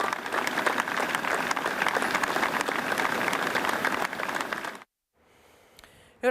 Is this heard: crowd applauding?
yes